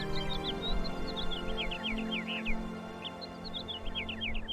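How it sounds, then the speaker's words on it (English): Repeated bird chirps and tweets from a bird in the Syberia adventure game, bright and fairly close, recurring in two bursts over a steady low ambient hum. "That bird's making a sweet sound."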